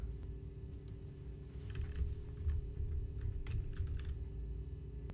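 Keys clatter on a computer keyboard in steady, light bursts under a constant electrical hum, close and fairly quiet, with no speech.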